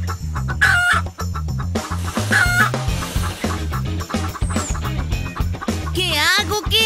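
Chickens cluck and a rooster crows loudly and up close, in repeated bursts over a background of music, with a few squeaky voices in between.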